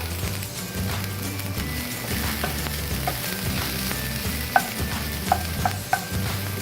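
Vegetables fry in a pan for an egg envelope sandwich, giving a steady close sizzle with continuous stirring and a few sharp metallic taps of a spatula near the end, and no talk.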